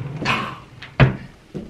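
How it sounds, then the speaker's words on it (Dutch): Dresser drawers are pulled open and pushed shut during clothes tidying, giving a few short wooden thumps and slides spaced irregularly, close by and fairly loud in a quiet room. "Uit de ene la en op naar de andere la."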